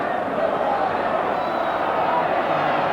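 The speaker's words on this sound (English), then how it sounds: "The crowd are going crazy here now." The crowd at a York City v Liverpool football match roars in a steady, dense wall of noise with a commentator's voice over it.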